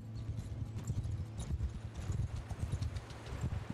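Horses gallop in the Mount and Blade Bannerlord video game, a steady rapid clip-clop of many hooves pounding continuously and fairly loud throughout, with a faint voice barely present.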